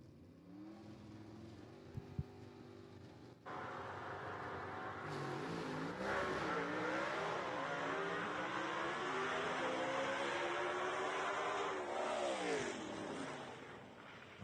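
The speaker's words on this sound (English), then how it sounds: "Bill Revel's making a pass right there" A drag race car making a pass at Rockingham Dragway, an engine idling low before a loud launch, then a hard-revving run with rising gear changes that holds strong before fading as the car pulls away.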